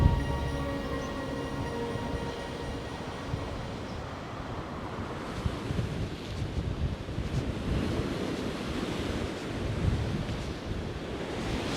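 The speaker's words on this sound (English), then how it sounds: "The Porthcawl wind is back." Strong wind buffets the microphone on Porthcawl seafront while surf rolls and crashes nearby, forming a continuous roaring wash with gusty swells and no voices.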